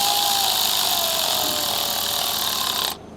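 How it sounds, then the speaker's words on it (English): A power tool drives screws while a leak prevention kit is fitted to a 6.7 diesel engine, giving one continuous loud whirring drone that runs steadily for about three seconds, then cuts off abruptly near the end. "All right, screwing down."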